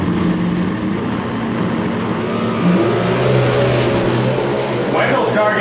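A Mopar Hemi drag car accelerates hard down the strip at a drag racing event, a loud sustained engine roar with shifting pitch, heard under a race commentator's voice.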